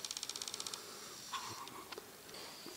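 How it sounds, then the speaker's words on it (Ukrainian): Bumblebees and bees working wild roses outdoors: a faint, thin insect buzz with a rapid pulsing flutter at the start, then a low steady hum in a quiet background. "І джмелі, і бджоли."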